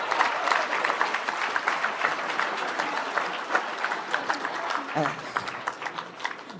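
Sustained audience applause fills an awards ceremony hall for Top 50 CEO honours, dense clapping steady and loud throughout, with a brief dip near the end.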